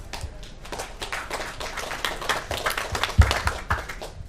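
Scattered applause from a small audience at the close of a talk show session, a fairly quiet patter of individual claps that thickens slightly toward the end, with no voices.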